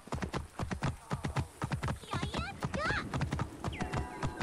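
Rhythmic clip-clop of horse hooves while riding in Assassin's Creed Origins, steady and close throughout, with a few whinnies and a voice speaking over the hoofbeats.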